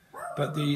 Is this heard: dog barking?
yes